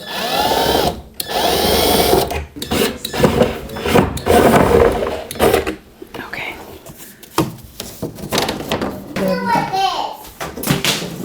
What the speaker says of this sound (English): I'm gonna be removing the door so that I can nail the trim to the corner. It feels so weird holding the screwdriver because it's so much lighter.